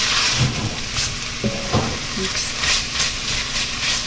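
Broth pours onto browned ham in a Le Creuset cast iron Dutch oven, setting off a loud, steady sizzle and hiss with bubbling spatter and a few faint clinks, continuing without a break.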